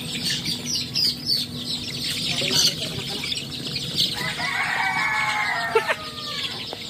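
Meat-type chicks are handled while being moved from a brooding box to a grow-out pen, filling the space with busy, overlapping peeping and chirping close by, with scuffling, rustling and occasional louder chirps mixed in.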